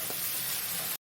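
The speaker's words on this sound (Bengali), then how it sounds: "এবার কেটে রাখা লাউগুলো দিয়ে দিচ্ছি।" Chopped bottle gourd hitting hot mustard oil in a pan, a sudden loud sizzle and hiss that holds steady for about a second before cutting off abruptly.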